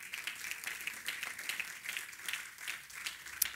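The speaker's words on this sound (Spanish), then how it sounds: "Den un aplauso al Señor" A church congregation claps steadily in sustained applause, a dense patter of many hands at moderate volume, somewhat distant.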